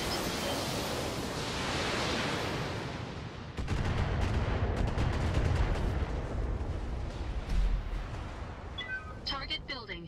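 A BattleTech mech unleashes a twenty-missile volley: a rushing roar gives way to a dense string of sharp launches and thumping impacts, loud and close, with a voice speaking over part of it.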